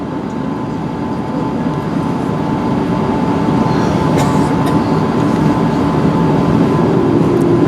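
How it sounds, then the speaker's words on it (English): Cabin of a British Airways Airbus A380 airliner on its takeoff roll, a loud continuous rumbling roar that builds steadily over several seconds with no talk. "my first takeoff on an Airbus A380"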